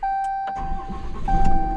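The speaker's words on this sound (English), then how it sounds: "we're going to turn the truck on to do a relearn" Pickup truck with a 68RFE transmission starting up, the engine cranking briefly and catching into a steady idle hum close by, with a constant electronic tone running throughout.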